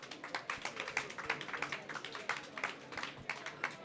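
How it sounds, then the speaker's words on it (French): Applause after a round-table panel on environmental transition, a quiet, steady patter of many hands clapping in quick, overlapping bursts across the room. "Je crois qu'on peut les applaudir aussi."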